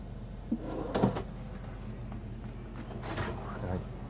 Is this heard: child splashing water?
no